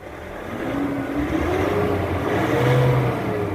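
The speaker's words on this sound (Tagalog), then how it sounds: "pakinggan nyo mabuti yung RPM kung hanggang saan yung galit ng engine" A Nissan Calibre engine with throttle delay and weak pull revs steadily and fairly loud, its pitch climbing and holding in a sustained drone with no voices.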